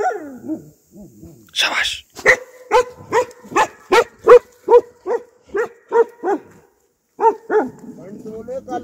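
Dogs at a nomadic shepherds' night camp in a deep forest bark close and loud in a rapid, evenly spaced series of about a dozen barks, with a brief spoken word nearby.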